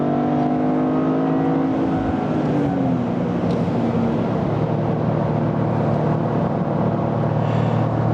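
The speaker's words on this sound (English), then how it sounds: "we'll do one more in the GR Corolla" A Toyota GR Corolla drives hard on a race track, its engine droning loudly from inside the cabin, with engine pitch sliding through gear changes under steady road and wind roar.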